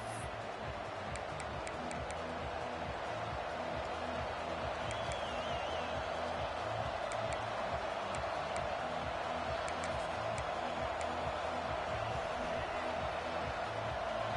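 A large stadium crowd at a Navy versus Michigan college football game makes a steady, dense roar that never drops away. The cheering blends into one continuous wall of distant voices, with faint commentary underneath.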